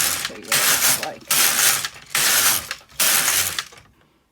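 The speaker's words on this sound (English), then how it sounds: "I found this pattern in one of the old manuals for the Knit King or Knitax type machine, and I'm going to knit it up" A Knit King or Knitax type knitting machine knits a rib pattern, its carriage making four loud, rattling ratchet-like passes of about a second each, with brief pauses between, and the last pass fading into quiet.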